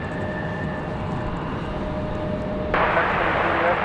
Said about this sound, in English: Exciting touchdown for FedEx. My goodness, what a struggle for the A300.